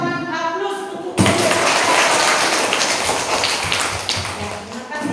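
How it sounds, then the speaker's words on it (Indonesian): Classroom applause during a teaching practice session, starting abruptly after a few words from a teacher and continuing as a dense patter of many hands, with occasional voices mixed in near the end. "Kita beri dulu tepuk tangan aplaus untuk"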